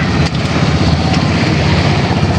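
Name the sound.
boat engine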